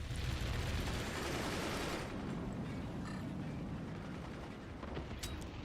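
Explosions in the strategy video game Forts, a dense, loud continuous rumble of blasts and debris that eases slightly after the first couple of seconds, with no talking.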